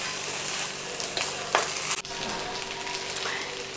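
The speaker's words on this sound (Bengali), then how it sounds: "এখন আমরা রাইসের সাথে চিনিটা মিশিয়ে ফেলবো" Rice with sugar is stirred in a frying pan for Jamaican rice with prawns and chicken, giving a steady sizzle with scraping spoon strokes and a few sharper clinks against the pan, close and continuous.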